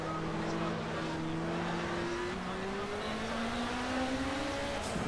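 A BMW Group 5 GT race car in the racing game Project Cars, its engine a sustained high-pitched whine rising steadily through the gears, near and continuous, with a faint voice underneath.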